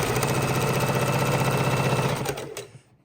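Sewing machine running a straight stitch through quilt blocks, a steady rapid mechanical whir with even stitching rhythm, loud and close, slowing and stopping near the end.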